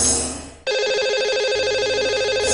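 A telephone rings on an outgoing call to a radio show's lucky caller. After a short burst of noise, a steady electronic ring tone sounds continuously at moderate loudness, with no voices.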